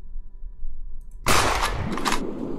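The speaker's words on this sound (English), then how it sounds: "They fire at us so quickly." Enemy gunfire aimed at the player in the game Superhook, a sudden harsh burst of shots after a quiet stretch, loud and close, with crackling impacts continuing to the end.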